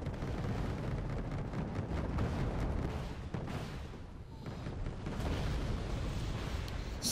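Bombing run in Wargame Red Dragon, a continuous rumble of distant explosions and artillery-like booms rolling together in a heavy, dense roar that briefly dips before swelling again.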